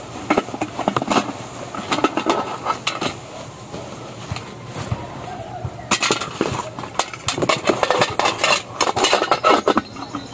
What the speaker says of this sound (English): this is the pots and this is the lid or the cover of the pots or cauldron